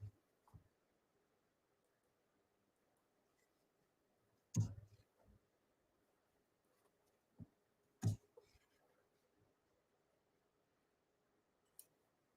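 Sparse, faint computer mouse clicks on a trading homepage, a handful of isolated sharp ticks spread across a quiet room, with two louder clicks near the middle.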